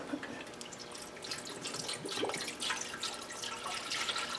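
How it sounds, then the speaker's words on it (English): Cold tap water runs and splashes into the tank of an ultrasonic cleaner, a steady close pour with gurgling and dripping, no talking over it. "we'll start with some cold water here"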